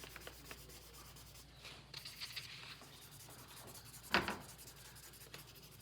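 Charcoal rubs and scratches across paper while a square is drawn around a cube drawing, quiet close strokes in short bursts with one sharper scrape near the end.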